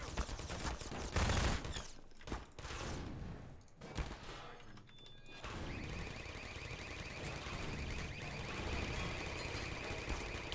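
Automatic SMG fire from the Half-Life 2 video game, with rapid dense bursts of shots and loud game combat noise, followed by a sustained harsh electronic tone.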